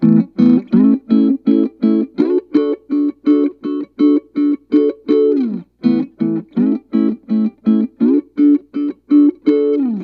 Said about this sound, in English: that allows the high frequencies to pass through and it cuts out the low and mid-range frequencies.